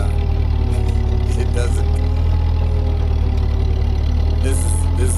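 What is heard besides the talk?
Ford 8N tractor engine running while clearing snow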